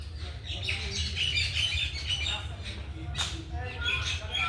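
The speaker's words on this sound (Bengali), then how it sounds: "অনেক পাখি ডাকছে এখানে প্রচুর পাখি চারিদিকে" Many birds in a small garden near the Ganges chirp, squawk and call from several directions, a lively overlapping chorus of sharp calls at moderate distance with some louder bursts.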